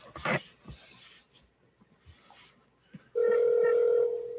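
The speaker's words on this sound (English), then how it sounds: "Phone's ringing." A telephone call rings through on the line: after a few seconds of quiet room noise with a brief cough-like sound, a loud, steady ringback tone starts and holds without a break to the end.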